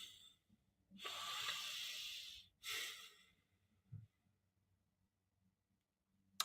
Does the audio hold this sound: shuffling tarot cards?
no